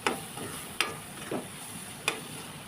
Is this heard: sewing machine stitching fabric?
no